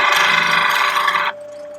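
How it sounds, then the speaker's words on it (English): A skew chisel cuts wood spinning on a lathe, giving a steady, close, raspy scraping hiss for over a second. It then stops abruptly, leaving only a faint motor hum. "So I just need to tidy it up a bit, and for that I'm going to use the skew chisel that I have here,"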